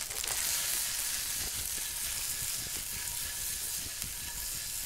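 Homemade potato gnocchi frying in bacon grease, a dense steady crackling sizzle with faint scattered pops and light stirring, close-up and continuous with no voices.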